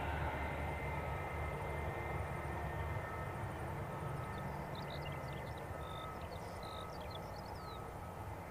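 An airliner on its landing rollout at Christchurch airport, a steady broad roar of engine and runway noise holding at a distance, slowly easing off, with faint chirping birds over it.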